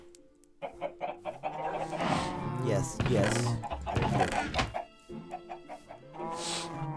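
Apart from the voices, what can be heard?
chickens clucking on a chicken farm in the video game Minecraft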